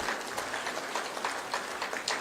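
Applause from an awards ceremony audience greets a sports award recipient, a steady, fairly soft patter of many hands clapping with faint individual claps standing out.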